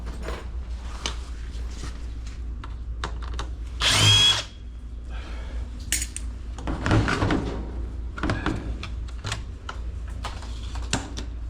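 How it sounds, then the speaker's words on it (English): A power drill whirs in short bursts with a steady motor hum underneath, plus clicks and clanks of tools being handled close by while a washer/blower unit is taken apart for scrap. "And I need my drill"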